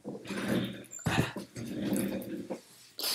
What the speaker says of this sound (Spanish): Suena por ahí mi perrita que está andando.